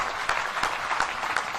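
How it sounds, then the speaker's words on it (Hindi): Audience clapping at a Jain religious discourse, a steady crackle of many hands with a few louder bursts across the short stretch, no voices over it. "अब तालियां बजा दीजिए इसी बात पर।"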